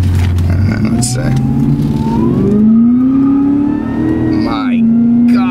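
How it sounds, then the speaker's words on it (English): A Lingenfelter-tuned 630 hp 2013 Cadillac CTS-V Coupe accelerating hard, its loud engine note and supercharger whine rising steadily in pitch up close, then shifting down and climbing again, with a voice over the top. "This is like half throttle. The supercharger whine"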